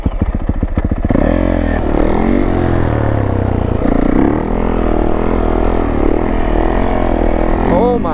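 Yamaha YZ450F dirt bike fitted with street tires starts up and rides off, its loud single-cylinder engine revving steadily and close by for several seconds after a few sharp opening pops.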